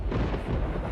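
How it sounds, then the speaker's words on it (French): Low, rumbling thunder in an audio Bible drama, a brief dense roll that stays steady and fairly quiet for about a second, with no voices. "Quelques-uns dirent que c'était le tonnerre"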